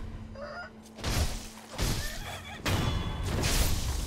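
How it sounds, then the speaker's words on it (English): A chicken in the Sekiro: Shadows Die Twice game gives a few short clucking, honking calls, mixed with sharp crashing thuds and game noise. "Chicken."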